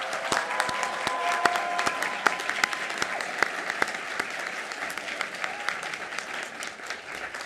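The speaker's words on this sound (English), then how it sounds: "Can we give a round of applause to all of our nominees," An audience claps for award nominees, finalists and recipients at a leadership awards ceremony, steady sustained applause with a few sharper individual claps standing out near the front, gradually easing toward the end.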